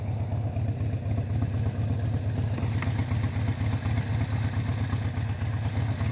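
A motorcycle engine idles steadily nearby, an even low throbbing rumble with faint mechanical clatter, running alone with no voices.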